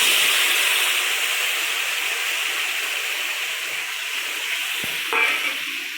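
A spice paste loosened with water hits a hot pan with cumin seeds and fries in a loud, steady sizzle and hiss close by, with a brief knock near the end.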